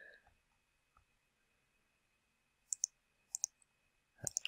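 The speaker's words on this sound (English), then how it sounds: "click, click, click, click, click. Just going to click all over the place" A computer mouse clicks several times in short bursts while someone demonstrates a website builder, with crisp, close clicks separated by quiet pauses.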